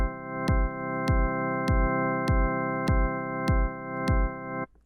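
A steady chord from an OP-Z synthesizer pumps in an even rhythm under a sine-shaped sidechain effect, with a deep kick thump on each beat. Loud and close, it ends with a short sustained tail.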